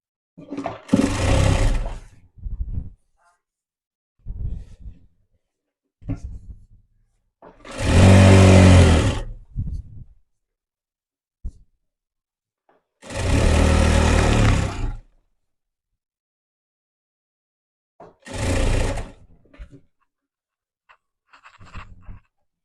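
A sewing machine stitches elastic onto a saree in several separate bursts of close, whirring motor sound, each a second or two long, separated by quiet pauses.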